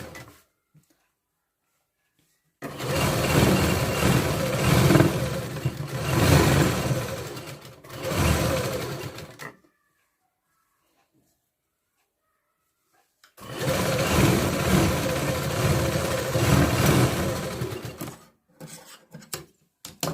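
Sewing machine running a seam along a blouse strip in two long bursts of steady whirring and rapid needle chatter, close and loud, separated by a silent pause.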